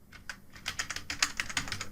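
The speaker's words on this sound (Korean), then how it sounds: "키보드에서 윈도우 키 누르시고요. 그 다음 그림판이라고 씁니다." A word is typed on a computer keyboard as a rapid run of close, crisp key clicks, about a dozen strokes in quick succession, with no voice over them.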